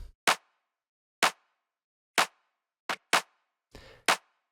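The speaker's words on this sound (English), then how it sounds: "there are two claps layered on top of each other" Two layered clap drum samples from a minimal house beat hit about once a second, six crisp snappy bursts with a short noisy smear before the last, loud and dry with no voices.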